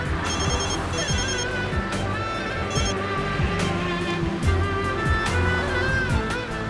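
A telephone rings for an incoming call, its electronic ringtone repeating in a steady, loud melodic pattern over low background rumble, with no one speaking.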